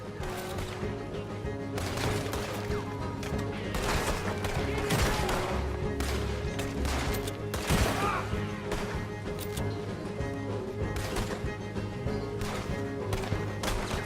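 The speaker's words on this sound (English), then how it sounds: "Keep shooting." Dense, continuous gunfire rattles through an Old West shootout in Red Dead Redemption 2, with rapid overlapping rifle and revolver shots and sharp cracks over a steady bed of music and noise.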